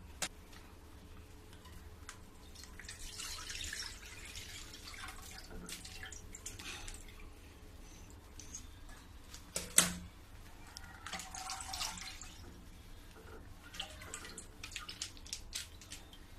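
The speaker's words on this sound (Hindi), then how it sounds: "अब इसी में मैं 1 किलो दूध डाल दूंगी।" One kilogram of milk pours into a kadhai for kulfi, a faint, steady liquid trickle with soft drips and light clinks under quiet room noise.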